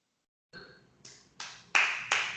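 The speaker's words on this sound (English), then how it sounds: "I know it's clapping." Five separate hand claps sound close and clear in a quiet room during a skit about soldiers with trauma, spaced roughly half a second apart and getting louder.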